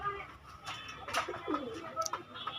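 Pakistani pigeons for sale at Gallamari in Khulna, white around the eyes and nose, give soft, low, repeated coos at close range.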